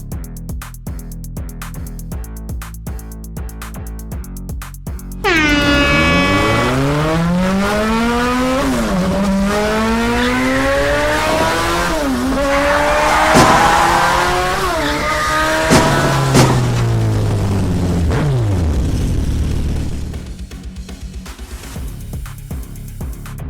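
Race cars at a racing tournament start from the grid and pull away, engines screaming loudly and rising through the gears in long sweeping whines, then fading as the pack moves off, with no talk over the sound.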